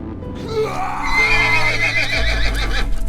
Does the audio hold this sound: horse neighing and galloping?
yes